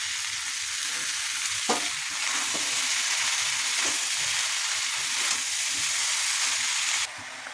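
Chopped bottle gourd hits hot oil in a pan for a prawn and gourd curry cooked in little oil, a loud, steady sizzle that holds evenly throughout before dropping away abruptly near the end.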